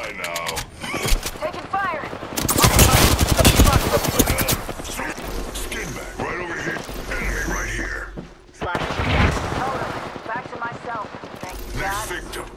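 Gunfire crackles through an Apex Legends match, with rapid bursts and a heavier volley in the middle, mixed with game effects and character voices calling out over the shooting.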